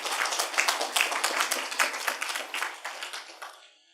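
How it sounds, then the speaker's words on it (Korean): A church congregation claps together in praise to glorify God, a rhythmic run of many hands striking in quick, even beats that gradually fades out. "우리 박수로 하나님께 영광 올리겠습니다."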